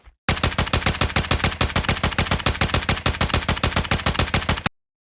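Rapid automatic gunfire from the Odin weapon in a video game, a steady rattling burst of evenly spaced shots lasting about four seconds, loud and close with no talking.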